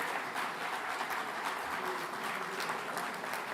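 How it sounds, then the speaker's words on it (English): Sustained audience applause at a ceremony honoring a paramedic, a steady dense patter of many hands clapping at moderate level throughout, with no talk over it. "They all deserve a very big round of applause."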